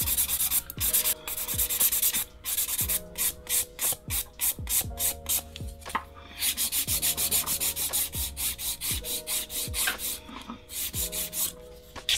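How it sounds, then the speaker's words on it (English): Hand nail file rasping and shaping a sculpted acrylic almond nail, heard as steady repeated back-and-forth strokes, close and fairly loud, with a rhythmic scratchy texture and no talking. "when you've finished your filing"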